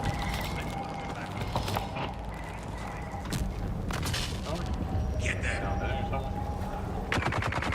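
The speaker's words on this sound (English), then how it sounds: "Shooting coming." Gunfire rings out in the multiplayer game Dune Awakening as scattered bursts and single shots, some sharp and close, over a constant rumble of background noise, with voices talking over parts of it.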